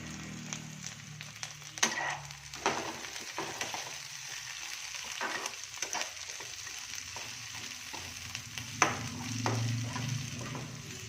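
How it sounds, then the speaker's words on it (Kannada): Curry leaves frying in hot oil in a pan for a potato palya served with dosa, a gentle steady sizzle broken by repeated scrapes and clinks of stirring. "ಕರಿಬೇವು ಹಾಕ್ತೀನಿ"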